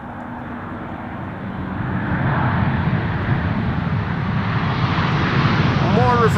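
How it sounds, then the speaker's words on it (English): A loud, close Etihad Boeing 787 Dreamliner in from Abu Dhabi lands at Amsterdam Schiphol in a crosswind, its broad engine roar swelling and holding steady, with a faint bird-like chirp near the end. "Etihad coming in from Abu Dhabi"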